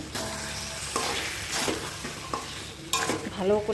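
Diced onion and whole garlic fry in oil alongside meat, a close, continuous sizzle with stirring scrapes and brief louder spatters, while someone briefly speaks.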